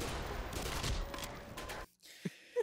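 Gunfire in the video game Black Mesa, a dense rapid burst of shots for about two seconds that cuts off abruptly, followed by near silence and a couple of faint, brief thuds.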